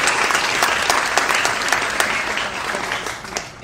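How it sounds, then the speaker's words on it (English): Audience at a congressional debate breaks into steady applause, a dense wash of clapping from a crowd that fades slightly toward the end. "Let's give a round of applause to all of our."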